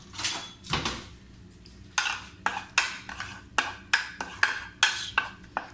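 Spices are stirred in a bowl with a spoon, giving a series of sharp, evenly spaced scraping clinks that repeat roughly every half second at close range.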